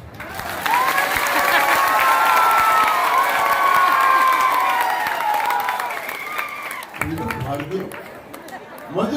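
Audience applause and cheering at a live comedy show: sustained loud crowd noise with a raised voice carrying over it, fading toward the end before speech takes over.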